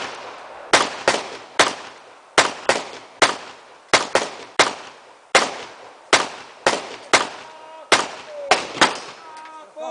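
Gunfire from an embarked shooting training drill: loud, sharp single shots crack in an irregular series, some in quick pairs, each with a short echoing tail.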